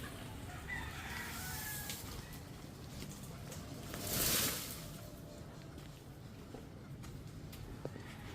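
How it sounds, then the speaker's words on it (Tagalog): A stressed chicken clucks and squawks among other fowl, one louder burst standing out briefly over a noisy, rustling background, with people talking faintly nearby. "Na-stress yung manok doon."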